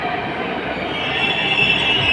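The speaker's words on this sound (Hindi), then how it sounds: "ये देखो मेट्रो ट्रेन आ रही है। ये मेट्रो ट्रेन इस तरीके से आती है, बहुत फास्ट गाड़ी होती है।" Delhi Metro train pulling into Jama Masjid station with a rising rumble of wheels and a thin high squeal of steel on rail that grows louder as it approaches.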